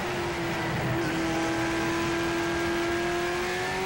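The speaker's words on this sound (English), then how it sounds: "Brad Bennett, sparks coming from underneath that car as there are 2 laps to go" Pro stock race cars roar around a speedway oval during a 1993 heat race, a sustained engine drone holding a steady pitch at moderate distance with no clear voices.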